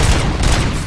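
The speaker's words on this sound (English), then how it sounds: "Too bad they're shooting at me." Dense, continuous gunfire from the RoboCop: Rogue City video game, a heavy sustained barrage of overlapping shots with deep booms, loud and close throughout the second.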